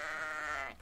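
A single sheep bleats once in the game Reign of Kings, a short wavering call under a second long, close and fairly soft, with no talking over it.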